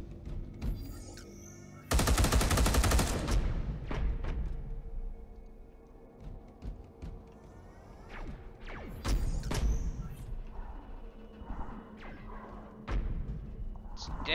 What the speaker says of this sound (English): Definitely the laser turret.